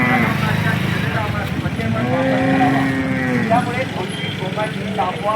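A cow lets out a long, low moo at the Sangola cattle market amid a busy background of voices and crowd noise, with people talking throughout.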